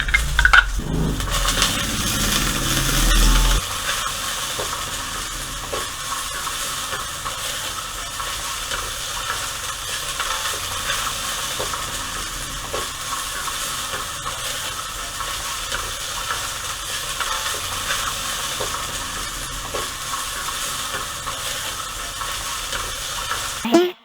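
Ginger, garlic and onion sauté in hot vegetable oil with a steady, dense sizzle that runs throughout, loudest in the first few seconds and then settling into a constant crackle with occasional stirring clicks.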